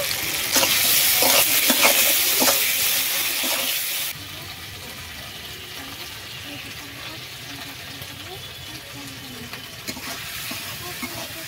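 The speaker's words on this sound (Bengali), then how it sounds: "আদা দিয়ে খানিকক্ষণ নেড়ে" Ginger paste stirred and frying in a pan for a home-cooked meal, with a loud sizzle and scraping stirs in the opening seconds, then a quieter steady frying hiss with occasional utensil taps.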